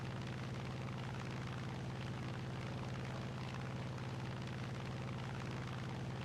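The engine of an F-82 fighter plane in the combat game War Thunder drones continuously and loudly, a dense, rumbling, unbroken roar with no pauses throughout.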